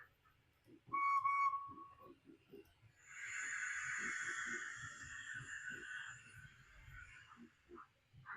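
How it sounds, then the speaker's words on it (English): A small OO gauge model locomotive whistle toots briefly, then sounds a longer, brighter blast, over faint low clicking and rumble. "So, forwards, more whistling."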